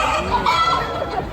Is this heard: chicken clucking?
yes